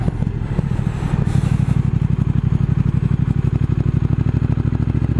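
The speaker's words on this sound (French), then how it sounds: "je sens les coups de piston là. Elle est vivante cette moto." A Triumph Speed Twin motorcycle engine thumps steadily at close range on a mountain road, its rapid rhythmic pulses and low rumble continuous throughout, with some mechanical clatter and no voices.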